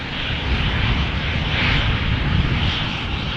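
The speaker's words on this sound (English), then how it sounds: "KLM flight 1059 going to Cardiff. Embraer 190." A KLM Embraer 190 departs Amsterdam Schiphol with a loud, sustained jet roar that stays close and even throughout, no voices over it.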